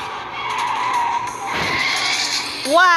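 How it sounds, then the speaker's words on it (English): Tires skid and squeal during a car stunt in the game Extreme Car Driving, a loud sliding hiss over engine noise ending in a sharp rising squeal, with an excited voice over it. "Wow, that was a car stunt."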